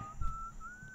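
A Sim whistles a steady, thin tune in The Sims 2, one sustained note that then slides slightly higher, heard faintly over low background rumble with no talking.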